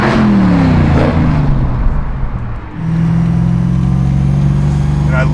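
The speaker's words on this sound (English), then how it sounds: "I love that you can really hear the supercharger" A 1,000 hp Hellcat-swapped Dodge Dart with a Magnuson supercharger revs and shifts, the supercharger whine riding over the exhaust, dropping briefly before climbing again, close and loud.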